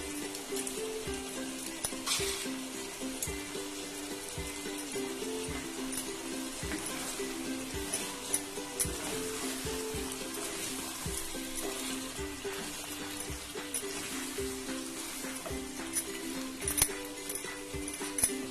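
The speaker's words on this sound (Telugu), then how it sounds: "ఇలాగే మూత పెట్టి మళ్ళీ 5 మినిట్స్ ఇలాగే ఫ్రై అవనిద్దాం" Gongura mutton curry frying in a pan in an Andhra kitchen, a steady low sizzle with occasional clinks and stirring, faint and continuous without speech.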